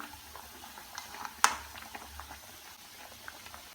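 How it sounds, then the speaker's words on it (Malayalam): Badusha dough frying in hot oil gives a quiet, steady bubbling with one sharp pop partway through and a few faint crackles. "ഓയിൽ ചൂടായതിനു ശേഷം ഇതിലേക്ക് ഫ്രൈ ചെയ്യാൻ ഇട്ട് കൊടുക്കാം."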